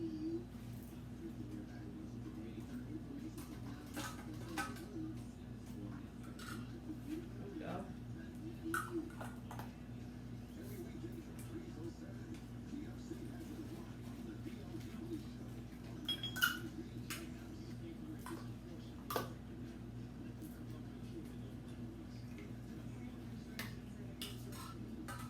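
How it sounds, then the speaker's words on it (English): Sanitized metal canning lids and rings set onto jars one at a time while pressure canning chicken thighs: scattered soft light clicks and clinks over a steady low hum, with people talking nearby. "So we're just gonna put one on each"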